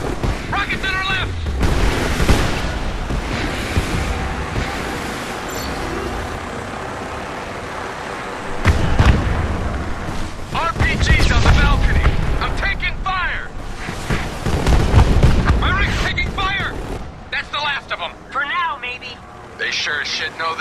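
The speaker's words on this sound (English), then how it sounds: "Rockets in our left!" Rockets and explosions strike a convoy in a video game, heavy booms and rumbling blasts recurring through a long stretch of continuous battle noise, with voices shouting over the chaos.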